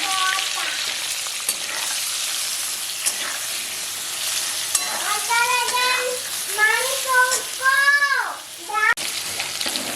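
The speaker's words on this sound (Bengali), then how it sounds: "লাল করে পটলগুলোকে ভেজে নিচ্ছি" Pointed gourd (potol) frying in oil gives a steady, close sizzle throughout, with a person talking over it in the second half.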